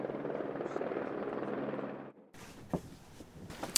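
A helicopter lands close by in a rural setting, its loud, steady rotor and turbine roar filling the first two seconds before cutting away to quieter background noise with a few sharp knocks.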